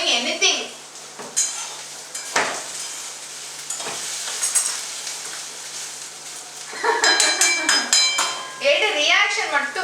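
Vegetables, okra among them, sautéing in oil in a home pan, with a steady sizzle and scraping stirs throughout and bursts of louder clatter near the end; people talk briefly over the cooking.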